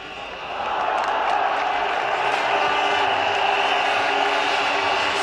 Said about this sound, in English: the crowd enjoyed that